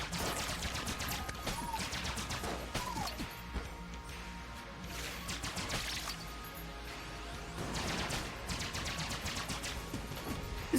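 Rapid bursts of gunfire from a weapon in the video game Enter the Gungeon, firing in dense repeated volleys with crashing impacts, steady and close throughout with no talking.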